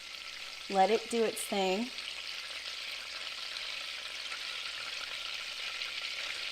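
Butter sizzles and crackles steadily in a pan while being stirred, a continuous close frying hiss, with a brief spoken remark near the start.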